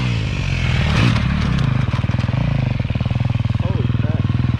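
A dirt bike engine runs wide open in third gear on a motocross track with a triple jump, a close, loud, steady drone with a slight shift in pitch.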